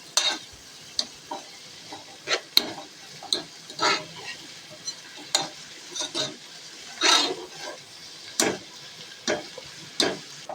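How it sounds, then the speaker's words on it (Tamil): Onions sautéing in oil until golden for a chicken biryani, a low sizzle broken by regular scraping stir strokes about once a second, close up and with no speech. "ஆனியன் நல்லா வதங்கிட்டு இருக்கு"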